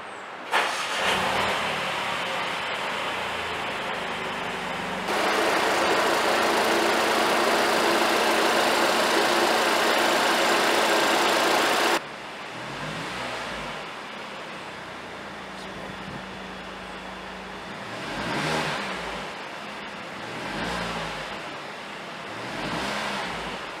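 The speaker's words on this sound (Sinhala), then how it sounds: "ඉතින් අපි මේ කාර් එකේ එන්ජින් සවුන්ඩ් එක අහලා බලමු." A 2018 Mercedes-Benz CLA 180 AMG engine runs close by, holding a loud raised-rev section before settling to a steady idle broken by several short rising revs.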